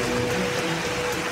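Heavy rain pours down steadily during a cloudburst flood in Itanagar, Arunachal Pradesh, a dense, even roar of falling water with no breaks.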